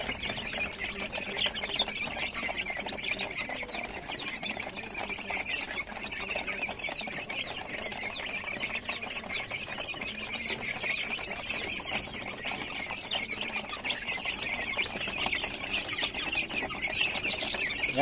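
A flock of 26-day-old upgraded native chickens clucks and chirps nonstop, many birds at once in a dense, continuous chatter close by.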